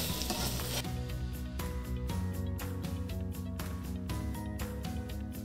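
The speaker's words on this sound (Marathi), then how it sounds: "आता त्यात मी आपला घेवडा आणि गाजर घालून घेते हलवून घेऊया" Beans and carrots being stirred into brinjal masala frying in a pan: loud, continuous close sizzling with regular scraping strokes of a spoon, no talk.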